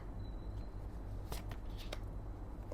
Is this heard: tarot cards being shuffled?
yes